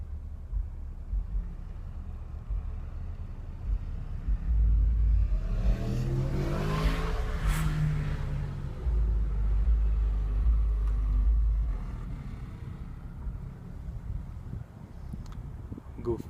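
A car with subwoofers blasting drives past, its deep bass rumble and engine swelling as it nears, peaking mid-pass and fading away, with a person talking over it.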